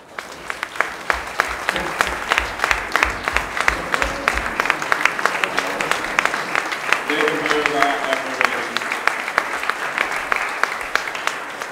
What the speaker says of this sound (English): please join me in giving our first responders, police officers, firefighters, and EMS personnel a round of applause